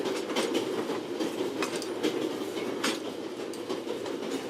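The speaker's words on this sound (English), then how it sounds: "We Swiss are crazy about trains." A train rolls steadily along the railroad in the adventure game The Raven: Legacy of a Master Thief, with a continuous rumble and rhythmic clickety-clack of wheels, close and loud, with no voices.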